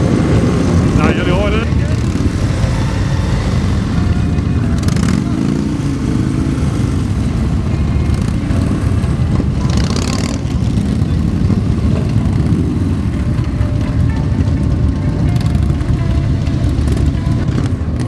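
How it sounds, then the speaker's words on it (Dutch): Hundreds of motorcycle engines roar together on a road during a mass ride, a loud, unbroken rumble of revving motors that fills the whole stretch, with voices heard faintly over it. "We laten de motoren brullen, zoals je hoort."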